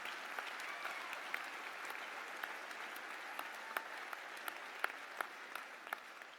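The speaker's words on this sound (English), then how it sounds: "I think that deserves a clap" A graduation ceremony audience at a School of Arts and Media claps steadily, a soft, distant, even patter of many hands with a few sharper individual claps popping out toward the end.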